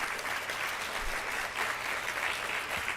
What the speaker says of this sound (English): let's give a big round of applause for our panelists and hosts.